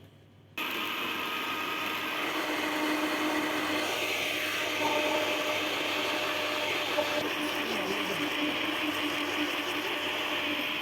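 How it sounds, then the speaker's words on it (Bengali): An electric blender grinds fresh coriander leaves for a bhorta, switching on suddenly after a brief quiet and running loud and continuous with a shifting whine as the load changes. "আগে কি শুধু ধনিয়া পাতা ব্লেন্ডার করবেন?"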